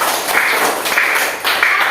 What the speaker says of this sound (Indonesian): Pratistanya kasih tepuk tangan dulu buat Pratista.